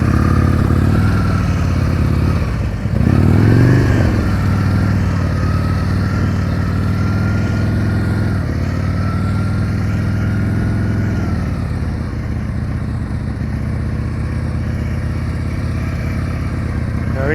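A motorcycle idles and creeps along at very slow speed during an advanced slow-speed riding practice session in Illinois, its steady low engine drone continuous and close, with a brief surge of throttle near the start.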